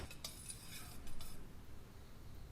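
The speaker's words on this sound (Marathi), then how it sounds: "त्यात दोन कप पाणी चिमूटभर मीठ पाव छोटा चमचा हळद एक छोटा चमचा तेल मिक्स करूया" Water, salt, turmeric and oil being mixed with dal in a pressure cooker pot, giving a few light metallic clinks and scrapes of a spoon near the start, then a soft, steady background hiss.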